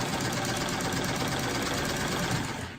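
Steady, continuous mechanical whirring of a sewing machine running close by, a fast even rhythm with no pauses, no voices present.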